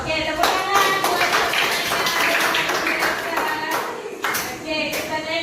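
Classmates applaud a student in a classroom, steady hand clapping filling the room for several seconds, with a teacher's voice speaking over the applause.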